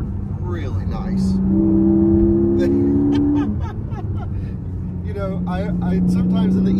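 A Porsche sports car held in third gear pulls hard, its engine note climbing and droning loudly from inside the cabin while someone talks over it.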